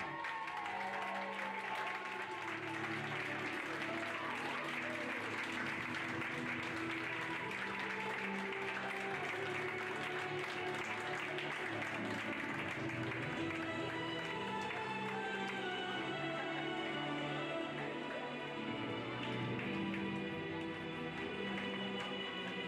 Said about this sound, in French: je vous demanderai de les applaudir bien fort